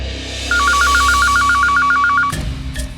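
A telephone rings in a rapid repeating electronic trill for about two seconds, followed by a couple of short dialing beeps, loud and close with no talking.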